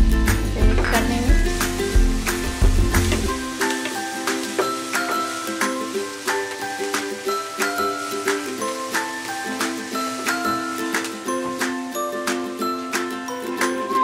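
Tomatoes fry in a pan for masala pasta, a steady sizzle broken by rhythmic clinks and scrapes of a spoon stirring against the metal, with a deeper rumble at the start.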